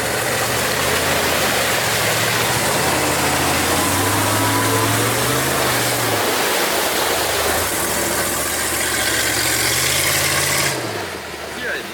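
A buggy engine on an off-road trail, running loud and close for most of the run with its pitch rising and falling as it works, then dropping away near the end; voices talk over it.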